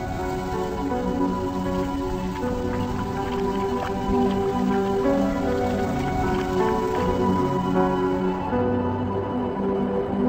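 Steady rain falling in the African savanna at the start of the rainy season, a dense continuous patter of drops on surfaces with scattered drips, close and even throughout.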